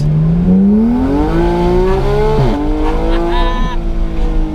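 Car pulling away from a car show in Monaco, engine loud and close, revving up through gears with rising pitch and brief dips at each shift, sustained over several seconds.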